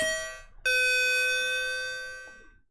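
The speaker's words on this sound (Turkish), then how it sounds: "Aynen bildiğiniz orijinal ding dong sesini bu hoparlörden alabiliyoruz." An electronic two-tone ding-dong chime plays once through a small speaker, clear and ringing, then fades out.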